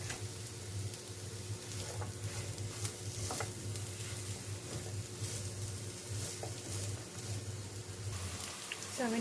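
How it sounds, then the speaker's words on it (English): Soft, steady sizzle of one onion frying in a tablespoon of olive oil, with occasional stirring scrapes and a low constant hum underneath, continuous and close. "add a tablespoon of olive oil, one onion. So we're going to fry this until it's"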